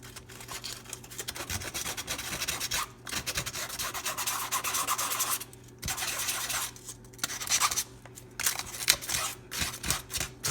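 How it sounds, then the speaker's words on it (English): Sandpaper scrubs the inside of a smooth plastic face mask in a steady run of soft rasping strokes, close and fairly quiet, broken by brief pauses with no talking. "with a little piece of sandpaper again and just rough it up a little bit on the inside"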